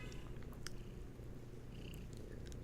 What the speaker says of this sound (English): Oh, the purring.